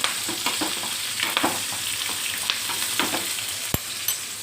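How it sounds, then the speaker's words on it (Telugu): Hot tempering with onion is poured into a Malabar spinach and raw mango tamarind curry, giving a steady close sizzle and crackle with faint stirring clatter, with no talk. "మనకి ఈ పోపును తీసుకుని బచ్చల కూర పులుసులో"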